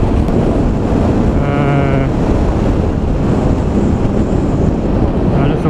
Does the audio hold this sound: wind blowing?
yes